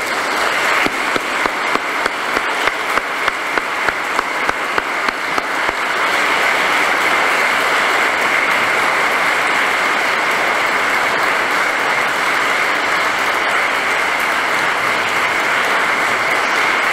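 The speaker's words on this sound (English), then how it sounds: "I'll ask you to give her a nice clap to say goodbye to my mom." Funeral congregation applauding together in farewell after a eulogy for a mother, a dense sustained wash of clapping from many hands that swells and holds steady, with scattered sharper claps at the start.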